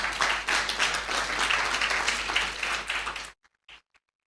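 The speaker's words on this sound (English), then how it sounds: "Big round of applause to all of you." Audience applause fills a room at a 24th anniversary celebration event, steady dense clapping for about three seconds before cutting off, followed by a few faint scattered claps.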